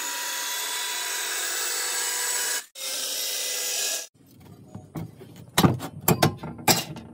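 A 10 mm iron sheet is being cut for a hollow block making machine: loud, steady, harsh grinding runs for about four seconds with one brief break, then stops and gives way to scattered metallic clanks and knocks.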